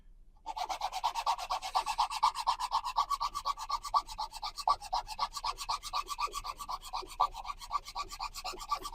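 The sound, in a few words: filing and dremeling a stratacite piece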